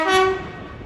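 West Coast Main Line electric service from Liverpool Lime Street to London Euston, led by 807-006, arriving at Crewe, gives a short tonal horn or whine that fades over a low rolling rumble.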